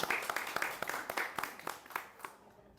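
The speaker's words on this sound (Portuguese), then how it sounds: "Deixe uma salva de palmas para essas mulheres maravilhosas que estiveram aqui presentes com a gente." Scattered clapping from a small audience thanking women guests at a literary festival interview, modest and fairly quiet, individual claps standing out before it thins and fades.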